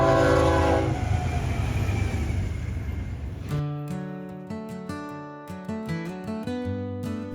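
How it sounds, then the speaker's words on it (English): Large freight train on the ATSF line in rural Gorin, Missouri, rumbling loudly up close, then sounding its horn in a series of sharp, repeated blasts over the continuing roll of the cars. "A train slices through the silence of the rural northeastern Missouri town of Gorin"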